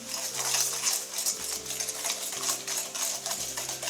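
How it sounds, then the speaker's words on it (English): Egg yolks and sugar whisked briskly in a bowl for lemon curd, a steady, close, rapid scraping and clicking of the whisk that runs continuously without pause. "and then if you keep whisking"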